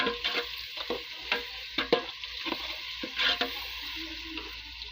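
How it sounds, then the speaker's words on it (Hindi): Two tablespoons of ginger garlic paste frying with browned onions in a pan for aloo pulao, giving a steady close sizzle broken by scattered scraping stirs, with no talking. "अब हम डाल देंगे लहसुन अदरक का पेस्ट"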